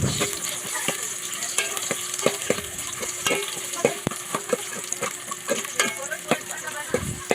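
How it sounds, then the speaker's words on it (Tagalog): Oil sizzling and crackling steadily in a hot pot, with repeated sharp clicks and scrapes of a utensil stirring throughout. "Ngayon nagpainit na ako ng mantika sa kaldero."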